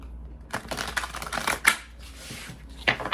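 Large tarot cards riffle and flutter in a few quick, close shuffling bursts separated by brief pauses, with no talking over them.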